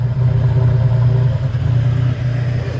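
A 1998 Toyota Tacoma pickup engine with around 300,000 miles runs loud and close with a steady low drone, held up on the gas without dying.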